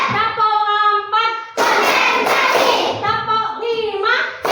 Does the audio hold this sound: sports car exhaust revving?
no